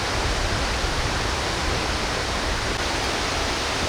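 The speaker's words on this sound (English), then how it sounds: "Beautiful waterfall, off the beaten path" Tad Etu waterfall in southern Laos roars steadily, a dense, broad, unbroken rush of falling water heard close and loud with no other sounds.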